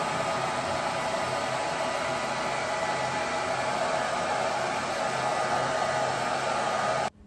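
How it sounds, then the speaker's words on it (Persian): A hand-held hair dryer blows over towel-dried, combed hair from the top down during a keratin hair treatment, a loud, steady, close whooshing roar that runs unbroken for about seven seconds before cutting off abruptly. "بعد از اون از بالاست شروع کنیم به سشوار کشیدن به این صورت"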